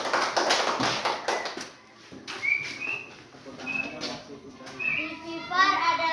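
Classroom children clap in a quick, busy burst of taps that thins out after about two seconds, followed by children's chatter and a few whistle-like squeals.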